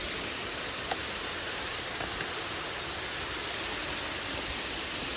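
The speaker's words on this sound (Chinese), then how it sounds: "瀑布往下流" Wufengqi waterfall in Jiaoxi pouring down onto a rocky stream bed, a loud, constant broadband rush with no breaks.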